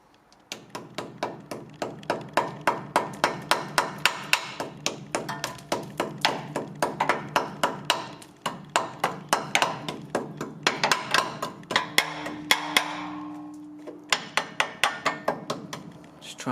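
A hammer chips caked dirt off the subframe of a Chevy C10 squarebody in a long run of sharp, ringing metallic blows, close and fairly steady, with a brief pause partway through and a short scrape near the end.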